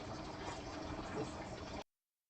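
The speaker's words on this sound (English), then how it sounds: "I didn't think you wanted to hear me pouring more water into my tea." Water pours steadily into a cup of tea, a close, continuous gurgling fill that runs smoothly for under two seconds and then stops abruptly into silence.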